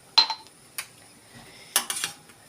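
A spoon or utensil stirring pepper jam in a metal pot, giving a few separate clinks and scrapes against the pot's side with quiet pauses between them.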